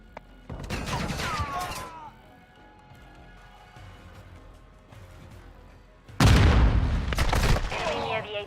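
A stun grenade detonates in Call of Duty: Modern Warfare II amid a multiplayer firefight, with a loud crackling burst early, then a quieter stretch before another heavy, close blast and ringing chatter of gunfire; game voice callouts can be heard.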